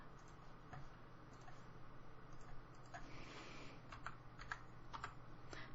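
Soft, quick clicks of keys being typed on a computer keyboard, irregular taps in short bursts over a faint steady hum.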